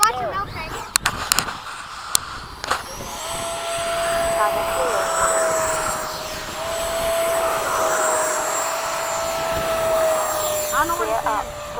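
An FMS 80mm Hawk RC model jet with a ducted fan flies overhead, its high, steady whine rising and holding after a few sharp clicks, with people talking nearby.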